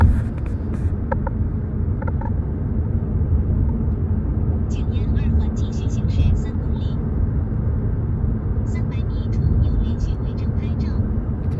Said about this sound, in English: Okay, sounds like you're in a car.